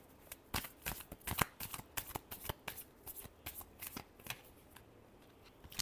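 Tarot cards shuffled close up in a quick run of crisp riffling flicks and slaps, fairly soft, with no talking over them.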